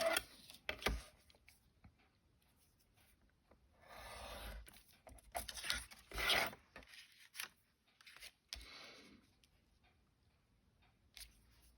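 Scissors cut a paper tag with a few close, crisp snips and rustling paper, separated by quiet pauses, while a flip pocket tag is trimmed at a crafting table.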